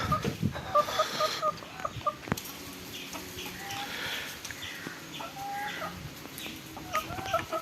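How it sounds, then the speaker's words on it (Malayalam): A flock of some 10 to 20 backyard chickens clucks and calls around a house, with irregular overlapping clucks near and farther off and a busy outdoor background. "ഒരു 10, 15, 20 കോഴികളുണ്ട് ഇവിടെ."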